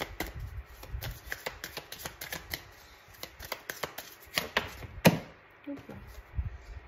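Tarot cards set down and shuffled on a table, a run of soft close taps and slaps with one sharper snap near the end, faint and without talk.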